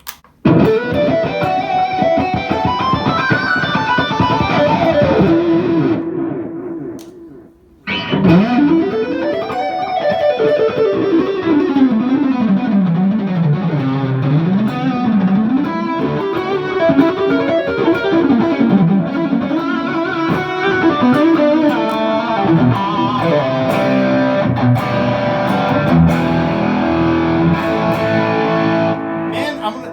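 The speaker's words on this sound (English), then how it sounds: "if I wanted the fuzz, it would just be this" Electric guitar played through a thick fuzz distortion, with sliding, wavering melodic lines and a brief pause before the buzzing tone resumes.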